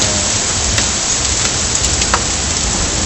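Heavy rain falling in a winter storm in Ankara, a dense, steady hiss of drops hitting surfaces with a few sharper spatters, close and loud throughout.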